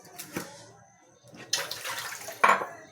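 A little water splashes and trickles in short bursts into a cooking pot, with a clatter like the pot being handled, close by and moderately loud.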